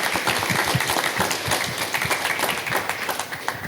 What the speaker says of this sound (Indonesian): Tepuk tangan dulu untuk Pak Saljan.